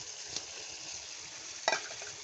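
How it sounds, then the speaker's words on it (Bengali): Washed shrimp cooking in a frying pan with tomato, a quiet steady sizzle broken by two short sharp stirring clacks, close by, no speech. "এই পর্যায়ে আমি অ্যাড করে দিচ্ছি ধুয়ে রাখা চিংড়িগুলো"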